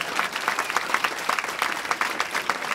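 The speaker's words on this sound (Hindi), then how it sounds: "आप सभी हमारे विशिष्ट अतिथि का स्वागत तालियों की गड़गड़ाहट के साथ करें" Audience clapping to welcome a chief guest at a Republic Day event, a brisk, dense round of applause with individual claps standing out, steady throughout.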